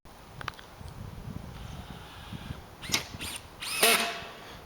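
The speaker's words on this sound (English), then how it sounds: "You ready to start screwing in down there?" Power drill driving screws into metal roofing panels during house construction, with a few short sharp bursts of whirring and clattering, moderately near, over faint background noise.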